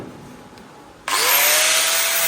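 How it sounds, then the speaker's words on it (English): An angle grinder abruptly kicks on and runs loud and steady with a high whining tone, harsh broadband hiss of abrasive contact on the metal body of a Ford Mk1 Escort. "So I'm just going to run the grinder over it"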